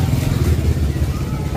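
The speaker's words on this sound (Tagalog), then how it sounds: "Tapos maraming mga motor kasi uso yan dito." A motorcycle engine drones nearby with a low, uneven putter, mixed with nighttime street noise in Moalboal, Cebu, and a voice talking over it.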